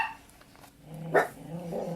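Dogs barking indoors in a home, a short burst of a bark with growly undertones after a quiet stretch, moderately distant and fairly soft.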